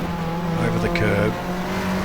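A race car in the GTR2 video game, on the Eastern Creek circuit in a 1994 Australian Manufacturers Championship race, runs over a curb. A loud steady engine drone mixes with a short rumble and tire noise while a commentator speaks over it.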